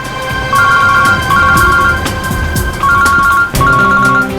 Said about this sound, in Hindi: श्रेया की माँ का फोन।